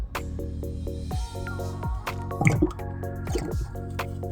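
Engine oil for a 2023 Honda CRF250R four-stroke motocross bike trickles and drips into a measuring container, with soft liquid splashes and a few sharp drips and clunks near the end, close and moderately loud.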